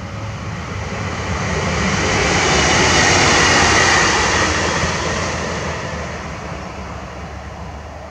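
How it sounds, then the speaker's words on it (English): A train passes along a trail, a broad rumbling roar that swells toward the middle and slowly fades, heard alone outdoors. "Here comes a train."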